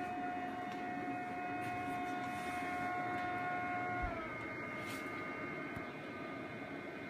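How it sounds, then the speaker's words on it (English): A Koolance EXC-800 PC water chiller runs steadily with its compressor and cooling fans, a constant close hum with several sustained tonal whines, one of which drops away partway through, with no talking. "The compressor itself, when it's on, I guess now it's on, plus these fans are running."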